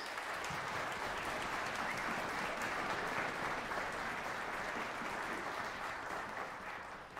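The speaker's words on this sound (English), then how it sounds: "Can we have a round of applause for all of our parents and teachers?" Parents and teachers are applauded by the audience at a school string and wind ensemble concert, a dense, even round of clapping that holds steady and tapers slightly at the end, with no voices over it.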